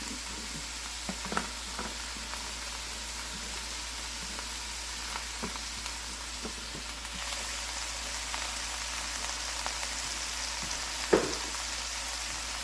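Cabbage frying in a pan over medium heat, a soft steady sizzle running throughout at low level with occasional faint clinks and stirring knocks, one sharper tap near the end.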